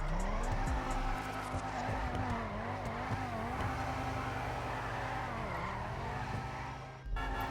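In GTA Online, a Bravado Banshee 900R or Ubermax Sentinel XS HSW drifts with a continuous loud tire squeal over a revving engine, the pitch wavering as the slide holds for several seconds before a brief cut.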